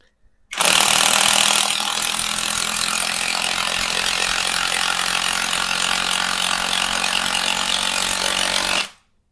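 A cheap cordless brushless impact wrench on power setting two drives a bolt, a loud, steady mechanical hammering rattle that runs unbroken for about eight seconds and then stops, with no talking over it.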